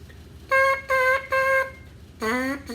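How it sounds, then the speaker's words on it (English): Lip buzzing into a bare brass instrument mouthpiece, heard as four short sustained buzzy tones: three steady held notes at one pitch, then a fourth lower note that bends upward, each loud and close with brief pauses between. "A buzz on just a mouthpiece would sound like this."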